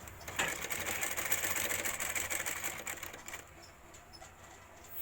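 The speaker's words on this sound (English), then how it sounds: "Stitch the frill top side." An industrial sewing machine stitches the frill of a small handbag in a steady, fast needle rattle that runs loud and unbroken before tapering off, with no talk.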